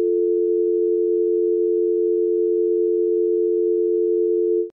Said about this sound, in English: a phone dialed tone